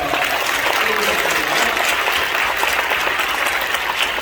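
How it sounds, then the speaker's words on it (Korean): Steady, loud applause fills the hall at a Korean prayer meeting honoring Korean War veterans, a dense wash of clapping hands sustained throughout without pause. "감사 박수 한번 드리겠습니다"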